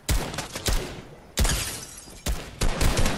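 Gunfire in an online shooter video game: three separate bursts of loud, full-band shots, each stretching into a brief rattling volley with decaying tails between them, and no talk over them.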